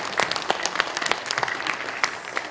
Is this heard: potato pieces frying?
no